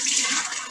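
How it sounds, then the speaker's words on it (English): Tap water gushes into a kitchen sink as cooked pasta is drained, a loud, close, hissing rush that tails off over a moment. "I always get water running at the bottom"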